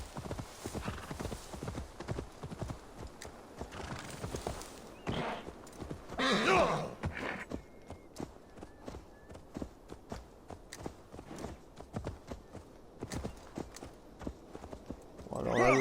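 A horse's hooves clip-clop at a steady walking pace in the Assassin's Creed Valhalla video game, close and continuous, with a louder burst of movement midway and someone talking over it.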